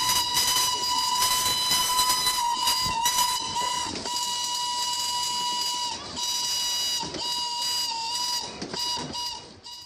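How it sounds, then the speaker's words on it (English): A steam whistle on a Cleethorpes Coast Light Railway train blows loud and sustained, held almost continuously with a few brief dips and restarts, steady and piercing with a hissing edge. "We celebrated our victory by blowing the whistle as loud as possible"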